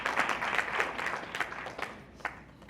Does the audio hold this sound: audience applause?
yes